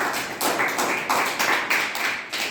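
Lively applause from a class of students after a story recitation at a primary school: rapid, dense clapping in rhythmic bursts that swell and ease repeatedly, close and bright, with no talking.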